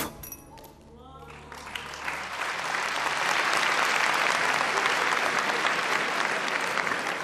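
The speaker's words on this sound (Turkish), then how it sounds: "Bu alkışları Hülya Hanım için yapın" Studio audience at a Turkish televised talent show breaks into sustained applause, swelling after a brief quiet start into a dense, loud wash of clapping that holds steady to the end.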